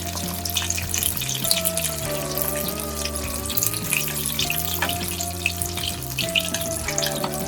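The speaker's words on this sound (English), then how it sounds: "Flip them around and we'll cook the fish on both sides." Amritsari-style fish fillets fry in hot oil in a pan, a steady crackling sizzle that runs throughout over continuous background music.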